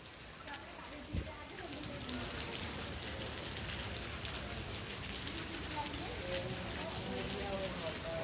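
Heavy rain pours down with strong wind in Vidyanagar, a dense, steady hiss of drops on surfaces filling the whole scene, with one brief thud near the start.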